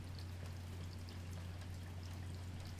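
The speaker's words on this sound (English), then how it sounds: "Oh, it's raining. Yeah. It sounds like we're in an aquarium." Rain falls steadily outside, a dense, even wash of patter with a low constant hum underneath, heard alone without talk.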